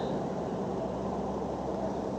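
Steady broadband rumble and hiss of road traffic from a nearby road beside a river, a continuous low wash with no distinct passing vehicles, moderately quiet and heard alone.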